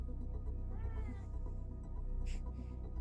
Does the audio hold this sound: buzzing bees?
no